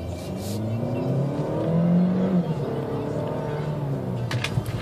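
A 2014 Buick Encore with a 1.4 liter turbo engine accelerates from inside the cabin, a steady engine drone rising through the gears with a brief stronger surge, with faint talk underneath.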